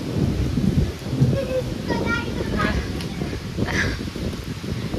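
Heavy monsoon rain pours steadily at a home garden, with a deep rolling thunder rumble and gusting wind roaring underneath, a dense continuous wash of noise throughout.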